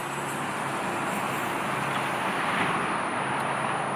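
Trucks passing on a road outside make a steady, distant rumble of traffic noise that carries faintly and continuously in the background, with no talking.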